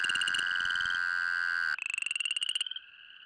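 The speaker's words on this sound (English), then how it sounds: "During the mating season, chorus frogs congregate by the hundreds" Chorus frogs calling in mating season, a dense, loud chorus of rapid pulsed trills overlapping at first, then a single nearer frog's rising trill repeating alone before fading.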